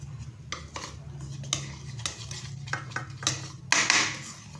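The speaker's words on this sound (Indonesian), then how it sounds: "Nah, kita aduk sampai tidak menggumpal" Flour batter mixed with water is stirred in a bowl, a spoon scraping and clinking against the sides in irregular strokes that grow louder toward the end, close up with no talk.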